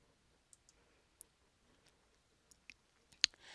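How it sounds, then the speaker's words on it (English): A computer mouse clicks a button on screen, giving a few faint, sharp, isolated clicks spread out over quiet room tone, with the clearest click near the end. "we will click on the Execute Query button at the top."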